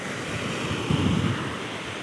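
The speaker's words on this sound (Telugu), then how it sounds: "అక్కడ కనిపిస్తున్నది రత్నగిరి బీచ్" Surf rolls onto Ratnagiri's black sand beach on the Konkan coast, a continuous broad wash of surf mixed with wind buffeting the microphone, with one slightly heavier surge midway and no voices.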